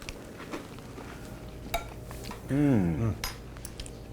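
Clinking cutlery and light scraping on plates as kale and black beans are served, with a brief voice partway through.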